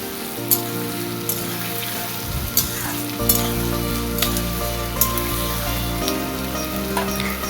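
Chopped ginger fries with tomato in a pan for a chicken dish, a steady close sizzle with periodic spoon-against-pan stirring knocks, no voices.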